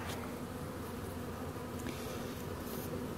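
A steady, dense hum of honey bees inside a hive on a warm day, a continuous buzzing drone heard up close with no talk over it.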